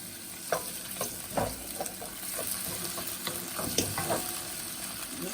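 Steady sizzling of a skinned tomato frying in a pan, with occasional scraping and stirring knocks, close and fairly quiet.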